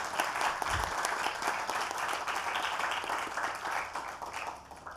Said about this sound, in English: You will all have to give a huge round of applause for Uncle Madhu